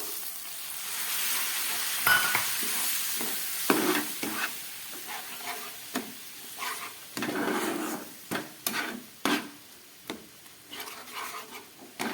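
Frying eggplant sizzles in a pan as mustard paste and water go in, with steady stirring scrapes and clinks over a continuous hiss, close and fairly loud.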